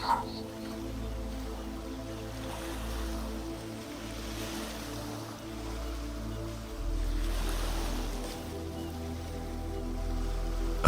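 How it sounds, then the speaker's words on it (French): Ocean waves wash steadily in the background, a soft continuous surf mixed under sustained calm music tones, with a gentle swell in loudness partway through. "Observez les vagues qui dansent doucement devant vous."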